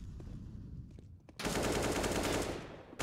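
Rifle fire in Counter-Strike during a competitive match: a few quiet, distant single shots early on, then a loud dense burst of rapid gunfire that holds for about a second before fading.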